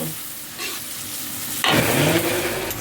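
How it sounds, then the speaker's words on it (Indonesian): A blended paste of chili, tomato, shallot and garlic hits hot oil for frying sambal for nasi uduk. It bursts into a loud, steady sizzle after a quieter start, with faint stirring. "Sekarang saatnya goreng cabai."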